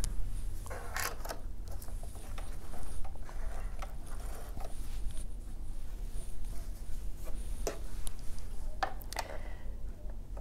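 A sewing machine stitches around the edge of toweling fabric, giving a steady close mechanical whir and hum with scattered small clicks and ticks throughout, and no one talking.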